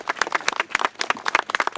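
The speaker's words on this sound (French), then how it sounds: "on vous applaudit encore" Applause from a gathered crowd at a community citizens' lunch, a fairly dense patter of hand claps continuing steadily for a couple of seconds at moderate distance.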